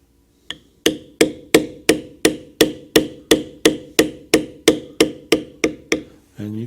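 A metal beveling tool is struck with a mallet on leather during Celtic-pattern embossing, landing about sixteen sharp, evenly spaced taps, close and loud, followed by a brief rustle.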